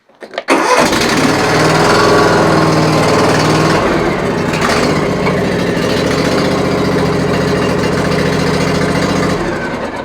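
A Cub Cadet XT2 lawn tractor engine cranks and catches, then runs at a loud, steady drone close by, with a brief change in tone partway through as it idles and drives, no talking over it.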